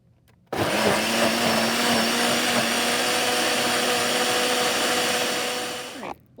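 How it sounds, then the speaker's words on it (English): A blender switches on and pulps shredded paper for papermaking, a loud, steady motor whir that starts abruptly after a short pause, holds for about five seconds, then winds down and cuts off. "it's time to go ahead and turn the blender on"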